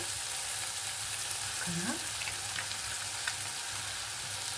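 Ginger garlic paste fries in a pan with a quiet, continuous sizzle and crackle. A brief stir or clink sounds midway, and no one talks.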